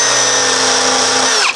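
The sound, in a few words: power sander lightly grinding rusty Land Rover Discovery body panel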